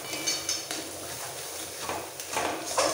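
A pea filling seasoned with turmeric and sugar is stir-fried in a pan for parathas, heard as close metallic scraping and clinks of a spatula against the pan over a low background sizzle, with no talking.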